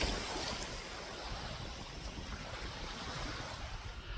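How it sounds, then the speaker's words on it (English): Waves break steadily on a lake shore, a continuous loud wash of surf mixed with wind buffeting the microphone, no voices heard. "Don't even know if you can hear me with all the waves crashing."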